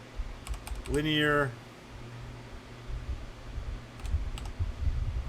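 A computer keyboard typed on in short light bursts of clicks, separated by a brief spoken word and quiet stretches.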